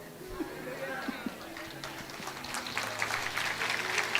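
A live audience claps through a motivational talk, the broadband patter building steadily and growing louder toward the end, with faint voices mixed in.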